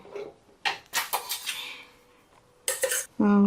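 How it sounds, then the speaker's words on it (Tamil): Vermicelli is stirred in a frying pan with a utensil, giving a few irregular scraping, clattering bursts against the metal, with a short voice cutting in at the end. "நம்ம மிக்ஸ் பண்ணிகிட்டே இருக்கணும்"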